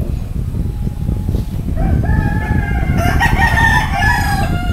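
A quality breeding stag, a young gamecock, crows loudly and close by several times in a row, with background farmyard clucking and noise underneath.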